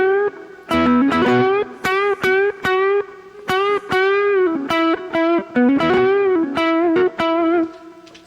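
Distorted electric guitar playing blues phrases with notes bent between the minor and major third, loud and close, a run of short picked and sliding bends with brief gaps between them and no talk.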